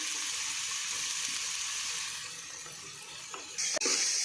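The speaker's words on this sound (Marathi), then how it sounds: "कांदा छान गुलाबी रंगावर येईपर्यंत आपण भाजून घेतो आहे" Finely chopped onions fry in hot oil, giving a steady bright sizzle that dips slightly and then surges louder near the end with a sharp clatter.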